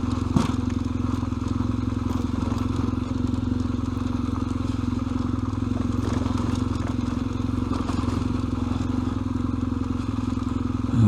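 Motorcycle riding a gravel road on a scenic loop route, the engine droning steadily up close with tyres crunching and clattering over loose stones the whole way.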